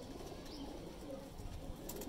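Low, soft cooing of baby flying pigeons murmurs steadily against a muffled, noisy background, faint and close-miked, with occasional rustling.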